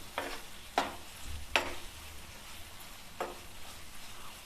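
A spoon stirs tomato, onion and peas with a little sugar in a pan, giving three or four distinct scraping strokes over a soft background sizzle.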